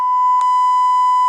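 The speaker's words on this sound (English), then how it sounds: "the words that have been aggressively beeped out" A loud, steady censor bleep, a pure electronic tone covering profanity in a message addressed to a senator about a Republican town hall, holds for the whole moment with one tiny break near the start.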